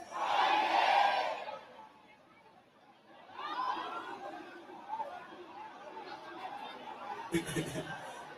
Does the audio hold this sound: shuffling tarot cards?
no